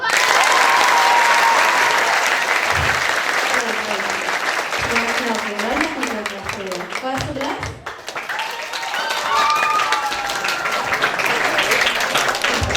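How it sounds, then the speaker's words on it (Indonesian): Grade 10 students at a Ramadan school event at SMKN 14 Jakarta applaud loudly as a crowd, dense clapping that swells and fades, with cheering voices and talk over it. "Oke, boleh kasih dengerin tepuk tangan dari kelas 10?"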